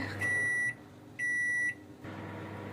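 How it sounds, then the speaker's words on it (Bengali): A Sharp microwave oven runs with mugs turning inside: a steady low hum is interrupted by two long, clear electronic beeps, and the hum continues afterward. "আমার এটা শার্পের ওভেন, এটা অনেক ভালো, এখনই গরম হয়ে বেরো আসবে"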